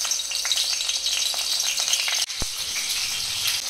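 Sliced bitter gourd sizzles in hot oil with a steady, crackling hiss, broken by a single sharp knock partway through before the frying continues a little quieter.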